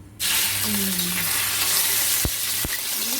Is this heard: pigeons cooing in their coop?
no